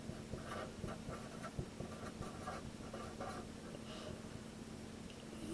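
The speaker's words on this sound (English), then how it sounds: "So I'm just going to write it a little bigger." Marker writing on a board during a math lesson, faint scratchy strokes in short irregular bursts over a quiet room hum, with no talking.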